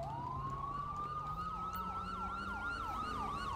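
An ambulance siren in a police patrol video game set in Sandy Shores wails continuously, with a rising tone and a rapid yelping pattern layered over it, loud over steady traffic and engine rumble.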